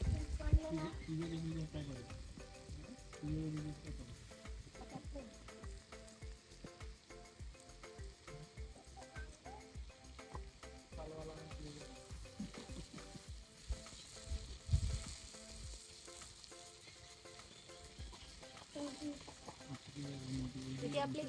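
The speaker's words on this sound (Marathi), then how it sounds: "अर्धे मी तव्यात टाकलेत तव्यात थोडी फ्राय झाली की पुन्हा इकडे शेकायला लावेल" Steady sizzling of chicken leg pieces frying on a hot griddle, continuous and fairly quiet, with occasional clinks and stirring sounds throughout.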